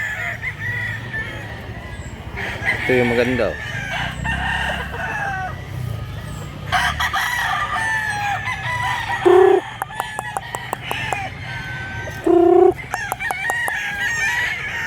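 Roosters crow repeatedly among a batch of 28 chickens bought for the trip to Masbate, with several loud, distinct cock-a-doodle-doos and scattered clucking over a busy background while people talk.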